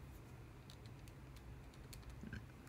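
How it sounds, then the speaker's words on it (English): Several light, irregular key taps on a calculator keypad, faint and close over a steady low background hum, with no talk. "which when I type that in my calculator gets me 120."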